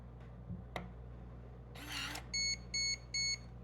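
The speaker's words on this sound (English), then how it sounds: "you'll hear that the first mode it goes into is the 3 beep mode" A Tactical Traps fingerprint lock gives three short, evenly spaced electronic beeps at close range, just after a brief rustling burst, with no one talking.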